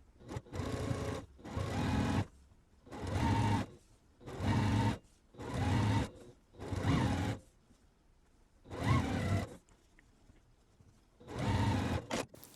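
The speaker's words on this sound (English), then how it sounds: "let's take all these over to our machine and get sewing" A sewing machine stitching quilt block pieces runs in about eight short bursts, each a close, steady mechanical whir lasting roughly a second, with quiet gaps between them.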